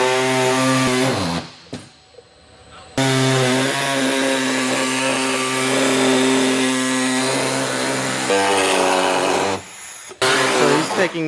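A power tool makes rough trimming cuts during a supercharger install on a C7 Corvette Stingray. It is a loud, steady, high-pitched whine that runs for stretches, breaks off briefly twice and starts again, with no voices.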